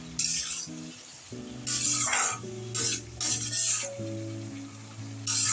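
Bottle gourd curry is stirred in a pan, with several bursts of spoon scraping and soft sizzle at a moderate distance. Steady tonal background music plays throughout.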